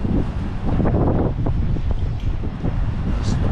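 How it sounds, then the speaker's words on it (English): Gusty wind buffets the microphone at an outdoor Superloop SL1 bus stop near Walthamstow bus station in outer London, a loud steady rumble with irregular thumps throughout and no clear talk. "today is a bit windy."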